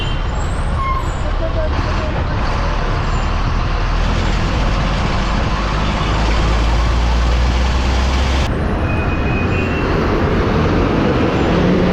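A city bus engine rumbles steadily from inside the vehicle as it pulls away from the Egmore railway station stop in Chennai, with constant road noise and low droning throughout.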